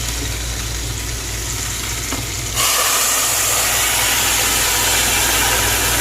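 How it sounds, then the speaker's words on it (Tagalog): Browned onions sizzling in a pan for Sayadieh rice burst into a louder, sustained steaming hiss as water is poured in, the sizzle rising sharply and holding steady with no talk. "Now it becomes so brown, and we will going to put water."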